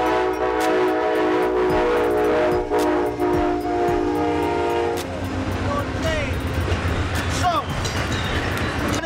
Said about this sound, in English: And you notice he's honking his horn, he letting me know he's coming through.